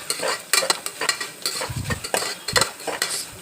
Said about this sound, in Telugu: కందిపప్పుని, జీలకర్రని కూడా వేసుకోవాలి. వేసుకొని పప్పు గోల్డెన్ కలర్ వచ్చే వరకు, లైట్గా గోల్డెన్ కలర్ వచ్చే వరకు వేయించుకోవాలి.